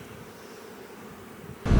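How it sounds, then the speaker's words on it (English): A bee buzzing inside a car on a camping road trip, with a faint steady drone close by, followed by a sudden loud burst at the very end. "There's a bee in the car."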